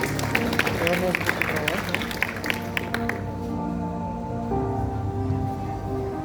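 An open-air thanksgiving church congregation applauds to welcome Pastor Almeida, with rhythmic clapping over music and voices that gives way to sustained tones and speech.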